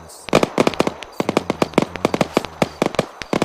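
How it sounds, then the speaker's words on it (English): Rapid, irregular volleys of sharp gunfire crack close by during a military simulation game, with bursts of shots packed densely over a few seconds. "we hear gunfire and we can look up and ignore the gunfire"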